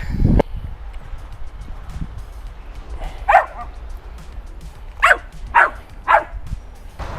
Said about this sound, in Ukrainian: от слухайте тепер, як він гавкає на ворон